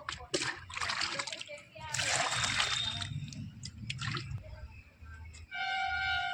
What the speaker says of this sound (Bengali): উচ্ছে গাছটার মধ্যে জল দিয়ে দিলাম ভালো করে জলটা দিয়ে দেবো